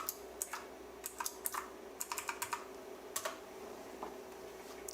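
Fingers tapping out a Wi-Fi password on a computer keyboard in a quiet room: short bursts of crisp, close key clicks, several quick presses in a row with brief pauses between groups.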